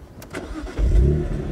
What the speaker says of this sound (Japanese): じゃあこの状態でもう一回エンジンかけて